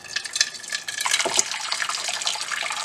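Boiling water poured from a kettle into a bowl in a kitchen, a bright splashing, gurgling stream that runs steadily and fairly close throughout, with no talking over it.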